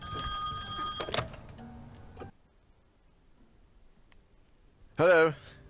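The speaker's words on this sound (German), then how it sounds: "Viel zu modernes Telefon hier." A modern telephone in the horror game Song of Horror rings with a bright electronic trill in loud bursts, separated by a stretch of near silence.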